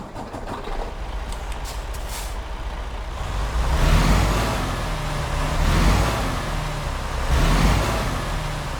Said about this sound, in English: But let's start up the truck because I know you guys want to hear it